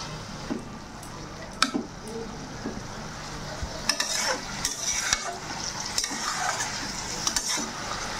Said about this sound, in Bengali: এখন লাই পাতাগুলোকে অল্প কষিয়ে নেব হালকা করে।